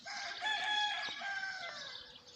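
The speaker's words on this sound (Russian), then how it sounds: "И петушок кричит." A rooster crows once in a village near Volgograd, a loud, drawn-out, strained call that dominates the scene with no voices present.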